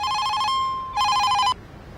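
A telephone rings in two loud electronic bursts, each about half a second long, with a short gap between them. No one speaks during the ringing.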